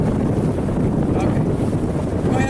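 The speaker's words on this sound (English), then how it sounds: "Hang on, we got some wind." Outdoor wind buffets the microphone with loud, steady low rumbling and whooshing gusts, heard alone and without a break.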